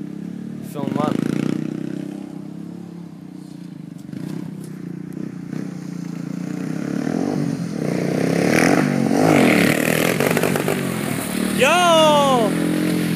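A Yamaha Warrior 350 ATV engine with underinflated tires, revving unevenly in surges that rise and fall, loud and close with scraping clatter, while a voice calls out over it.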